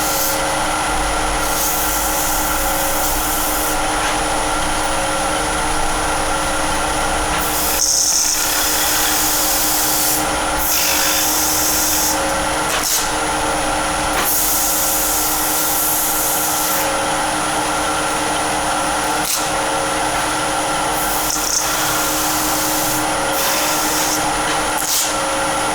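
A natural-edge wooden vase spinning on a woodturning lathe while being sanded through finer grits: a steady, loud motor whine with a continuous abrasive hiss that shifts slightly as the paper is moved, with no voices.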